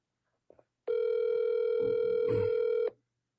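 Outgoing phone call ringback: a brief click and blip, then one long steady electronic ring tone lasting about two seconds before cutting off, clear and close, with a faint low murmur beneath.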